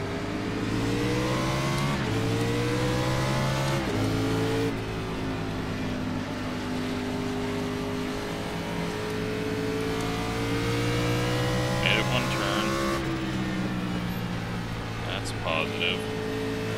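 NASCAR Xfinity race cars accelerate at the green flag at Bristol Motor Speedway in iRacing, the engines roaring loudly and climbing in pitch through gear shifts, a continuous pack drone with someone talking over it.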